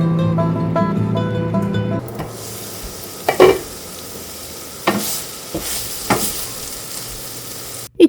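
Chicken stir-frying in a pan in a home kitchen, a soft continuous sizzle with a few scraping stirs and clatters, following a stretch of background music.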